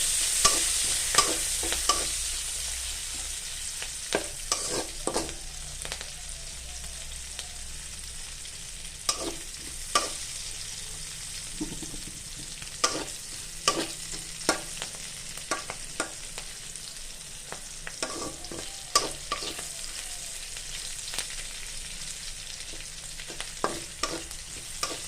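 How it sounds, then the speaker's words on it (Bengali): Bay leaf, chopped ginger and green chilli fry in a pan for a sago khichdi, giving a steady close sizzle throughout with frequent sharp clicks and scrapes of stirring scattered across it. "দিচ্ছি তেজপাতা, আদা কুচি, কাঁচা লঙ্কা, এগুলো একটু ভেজে নেব"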